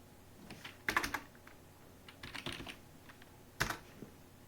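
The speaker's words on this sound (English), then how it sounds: "So we're just going to type in" Keystrokes on a computer keyboard while code is entered for a karting lap counter, coming in a few short bursts of quick clicks separated by pauses, fairly close and quiet, with no voices.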